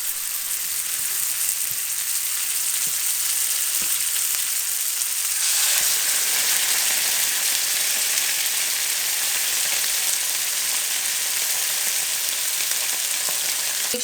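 Steaks sizzle loudly in a hot pan, a dense continuous crackle that swells sharply as they hit the surface and then holds steady.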